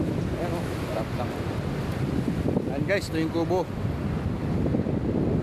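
Wind blowing by the sea near a beach hut, a constant loud rumble of gusts buffeting the microphone, with a voice speaking briefly over it.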